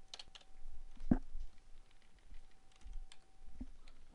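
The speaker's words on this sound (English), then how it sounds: "Fair bit of typing to do here." Soft, sparse keystrokes on a computer keyboard, a few isolated clicks and taps spread across a few seconds in a quiet room, with no talking.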